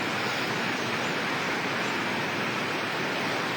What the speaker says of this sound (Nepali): आज तादी त्रिशुली देवीथानको जाल्पा मन्दिर परिसरमा चाहिँ उक्लिएको छ।